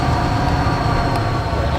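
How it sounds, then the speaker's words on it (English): A train rumbles past in the Run8 V2 train simulator, a steady, loud, continuous roar of wheels and engine with a faint high whine, filling the whole moment without any voices. "thought I heard another train coming"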